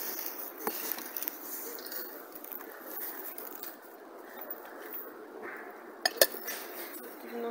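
Dishes and a salad bowl clink as they are handled on shop shelves in a Svetofor discount store, a few sharp glassy knocks over a steady bed of store background noise.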